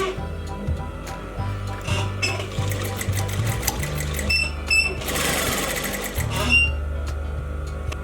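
Close and loud, a sewing machine runs almost continuously while stitching a seam pocket with a 12 mm seam allowance, its motor rising and falling in speed with some ticking mechanical clicks.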